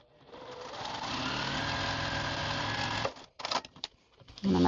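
A sewing machine runs steadily while stitching quilt pieces together, then stops with a few brief handling noises and a short restart at the end.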